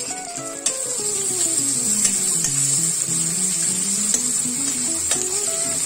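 Chopped onions sizzle steadily in hot oil, a continuous loud frying hiss with stirring scrapes and background music.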